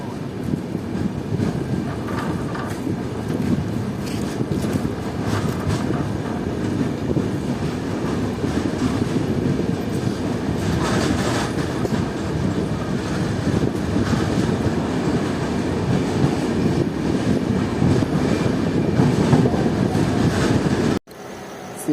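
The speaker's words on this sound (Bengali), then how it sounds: "আমাদের ট্রেন ছেড়ে দিল এখন শামসি রেলওয়ে স্টেশন" Uttarbanga Express passenger train running from Samsi station in a general coach, a steady loud rumble of wheels and carriage rattle throughout, cutting off abruptly near the end.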